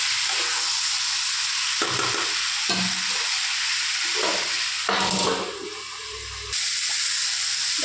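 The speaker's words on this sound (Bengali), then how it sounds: "এবার আমি এটা একটু নাড়াচাড়া করে নেব" Vegetables frying in a pan and being stirred: a loud, steady sizzle with intermittent scraping strokes and brief dips in the hiss, heard up close with no voices.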